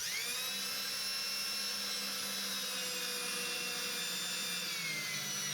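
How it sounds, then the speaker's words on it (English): A drill drives a stainless steel mounting screw through a straight cable railing receiver into a post, a steady, loud high-pitched whine that holds without a break from start to finish, with no voices. "drive the screw"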